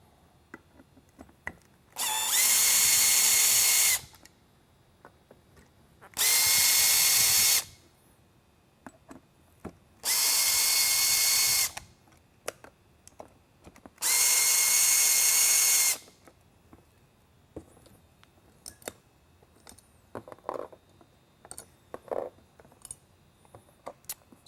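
A power drill backs out the four screws holding the polycarbonate lens on a Whelen Pioneer SlimLine single worklight: four loud, even whirring bursts of about two seconds each, separated by quiet pauses with faint handling clicks afterward.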